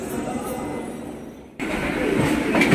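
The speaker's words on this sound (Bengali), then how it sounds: "আমরা এখন ট্রেনে উঠে পড়েছি" Rumbling interior noise of a train from Sealdah, Kolkata, a steady rolling hum that briefly dips then returns louder, with faint clatter of the carriage in motion.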